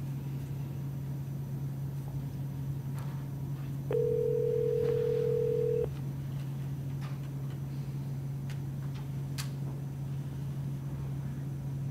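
A steady telephone dial tone sounds for about two seconds while a call is placed during a board meeting, standing out clearly over a constant low room hum with no talk.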